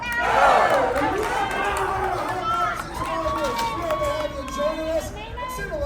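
A crowd at the SEMA 2023 Hot Rodders of Tomorrow event cheers and yells for competing students, a loud burst of whoops and shouts that settles into sustained chatter and calls.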